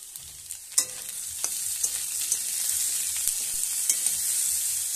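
Chopped onions dropped into hot oil in a pan, sizzling steadily up close, with scattered clicks and scrapes of a spatula stirring them around, no talking.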